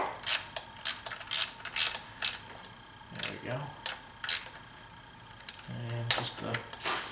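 A ratchet clicks in quick bursts close by while snugging bolts on a BMW six-cylinder valve cover, with short runs of rapid pawl clicks separated by pauses and a brief metallic clatter near the end.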